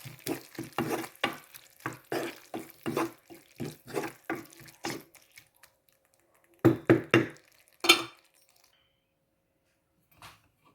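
A spoon scrapes and stirs fried beetroot curry in a pan in a quick, regular rhythm, then pauses before a few more scrapes and a final tap.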